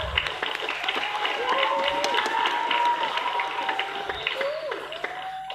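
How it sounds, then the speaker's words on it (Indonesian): An audience at a school closing ceremony applauds the sixth-grade class, with steady, moderately distant clapping and crowd noise under a sustained musical tone. "Tepuk tangan untuk kelas 6."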